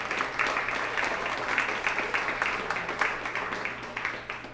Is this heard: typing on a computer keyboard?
no